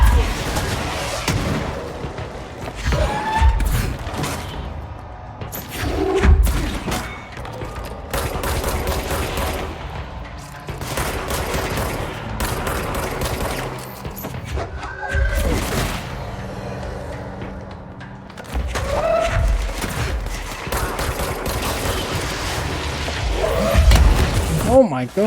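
Repeated gunfire in the action video game Control, with rapid shots fired at a magic bubble among booming combat effects and a dense game soundscape, with voices speaking over parts of it.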